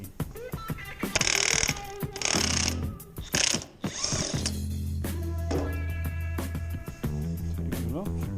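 Rear wheel coming off the single-sided swingarm of a Ducati V4R. Close mechanical clicks and ratcheting mix with short hissing bursts and a steady low hum, and there is no speech.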